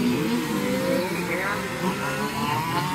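A race car runs through a night endurance race, its engine whining and revving at mid distance in a brief burst, with a voice talking over it.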